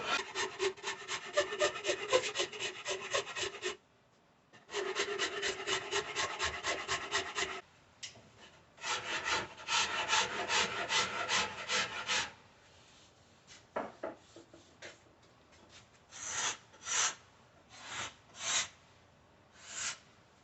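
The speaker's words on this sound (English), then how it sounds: "I took my scraper and ran down the edges of this just to take off any thing that's sticking out the side" Scraper drawn along the edges of a wooden bow limb in bursts of dry, raspy rubbing strokes, close and fairly loud, with short pauses between passes and lighter, choppier scrapes toward the end.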